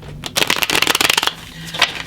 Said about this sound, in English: I already did a pre-shuffle on all the cards. I'd like to give them one more go